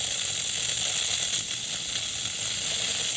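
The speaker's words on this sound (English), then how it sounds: "you can hear the hissing in the background. That's the Instant Pot getting ready to seal." Steady hiss from a Crockpot Express electric pressure cooker as it builds pressure and seals, with a continuous, fairly loud airy rush and slight mechanical rattling throughout, no voices.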